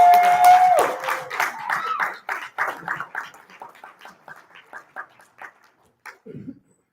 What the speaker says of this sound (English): But for me, Rebecca, my love language is applause for our students, welcoming them up